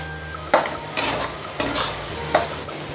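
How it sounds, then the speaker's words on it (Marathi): Grated sweet potato halwa cooking in syrup in a pan, stirred with a spoon that scrapes in four distinct strokes over a steady soft sizzle. "आता हे सिरप घालून घेते. जरा घट्ट सरवेपर्यंत परतत राहायचं आहे."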